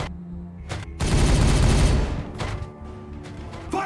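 Gunfire erupts in the game Regicide, a dense burst of rapid shots and booms swelling loud for about a second before trailing off into scattered, fainter reports and mechanical clatter.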